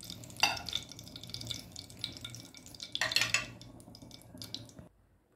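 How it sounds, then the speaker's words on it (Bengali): Eggplant slices frying in a pan one at a time, with soft sizzling and a couple of louder clattering stirs near the start and middle, then cutting off to silence near the end. "একটা একটা করে আমি বেগুন ভেজে নিচ্ছি।"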